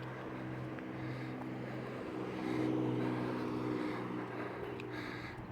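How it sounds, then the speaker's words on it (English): A Ford pickup truck drives past on an urban street, its steady engine and road rumble swelling briefly at mid-pass before easing off, with no talking. "Can someone give me the year of this Ford pickup truck?"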